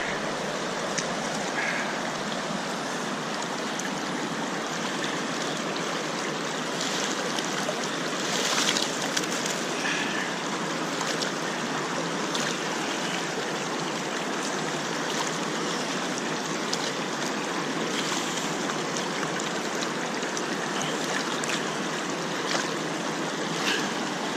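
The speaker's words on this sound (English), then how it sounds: "the water's just washing the gravel right through there" Water rushes continuously over gravel in a gold-mining sluice box, a steady close wash of splashing and trickling that barely changes from start to finish.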